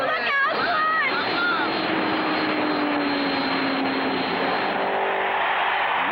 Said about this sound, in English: Only 2 more laps to go and car number 5 is gaining a little.